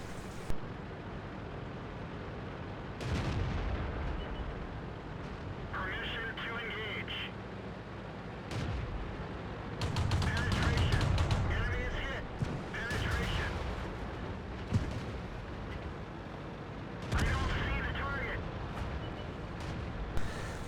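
Heavy artillery rounds boom across a World of Tanks battle on the Sand River map with a VK 16.02, as dull explosive thuds and rumbles come in bursts over continuous engine noise while someone talks throughout.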